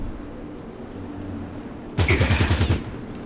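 Sudden loud burst of rapid automatic gunfire, about eight evenly spaced shots in under a second, fired at an enemy in the tactical combat game Fallout Tactics, standing out sharply over a low steady background hum.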